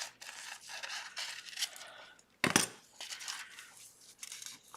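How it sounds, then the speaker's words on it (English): Scissors snip through a foil transfer sheet for a Cricut Joy, with a run of crisp scraping and crinkling cuts, one sharp louder snip near the middle, and no talking. "So let's get our scissors. I'm going to cut this."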